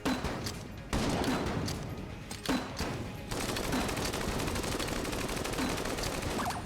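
Grenade launcher fire in the video game Enter the Gungeon: dense, loud bursts of shots and blasts that go on without a break, with sharp onsets near the start before the volley settles into a steady barrage.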